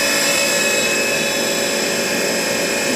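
Spindle of a 2002 Haas TM-1 CNC milling machine running at 3,500 RPM, a loud, steady broadband whine and whir holding constant throughout with no speech.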